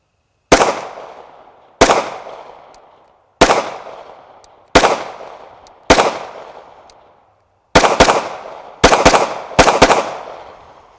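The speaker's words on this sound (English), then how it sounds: "Let's put some rounds downrange and see how it goes." A Taurus G3 9mm pistol fires eight sharp shots at an outdoor range, each loud crack ringing out briefly. The first five are spaced about a second apart and the last three come in quicker succession. No voices are heard.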